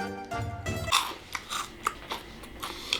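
A crunchy Japanese seaweed rice cracker snack is bitten and chewed close up, with several sharp crunches spaced through the moment after a brief voiced sound at the start.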